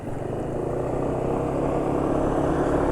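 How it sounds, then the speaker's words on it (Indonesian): A diesel engine running on Unioil Turbo SAE 40 oil holds a steady, slightly rough idle, close and continuous with no voices. "tapi ya tetap suara mesin sudah lebih kasar"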